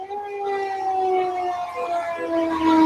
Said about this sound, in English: There's a siren outside my window.